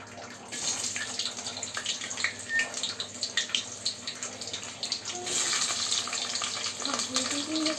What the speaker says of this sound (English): Now we're going to fry these bitter gourd rings first